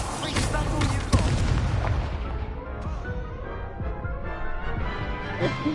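Confringo and Incendio spell blasts fire in the video game Hogwarts Legacy as deep booms and bursting explosions, with a big blast near the start, then a rumbling, crackling decay and a few softer pops.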